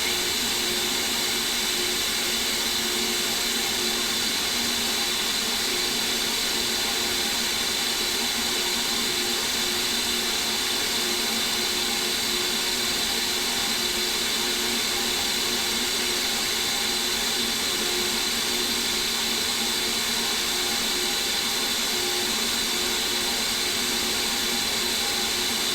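Carburetor flow bench vacuum motors run at a steady, loud, unbroken roar with a broad whine, continuous throughout with no voices.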